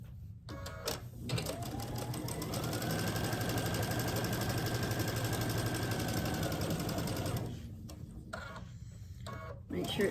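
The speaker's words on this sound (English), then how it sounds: "Right sides together, line it up, stitch it down at a quarter inch." A sewing machine stitches quilt block pieces together with a quarter-inch seam, running in one steady, loud, continuous whir for about five seconds, with quieter handling noises before and after.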